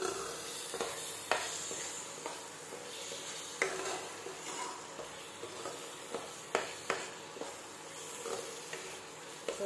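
Spices and cream being stirred and fried in a pan for butter paneer masala, a steady close sizzle broken by repeated scraping stirs and occasional clinks of a spoon against the pan.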